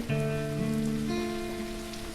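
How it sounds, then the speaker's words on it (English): Rain pours steadily in the SurrounDead survival video game, a constant wash of falling water with sustained tonal layers running over it throughout. "the rain started pouring."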